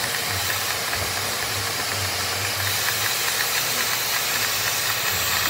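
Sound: dental suction bypass vent valve opening

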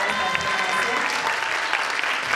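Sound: audience applause for dancers

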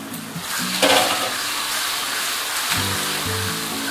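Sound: onions and garlic paste frying on low heat

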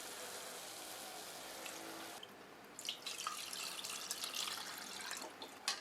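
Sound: pouring prepared buttermilk into the pot

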